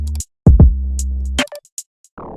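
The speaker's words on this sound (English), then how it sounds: "Then I added this bang bass." A deep, booming 808-style bass note hits twice in quick succession and sustains, with crisp hi-hat ticks above and a short melodic blip near the end, in an amapiano-style beat.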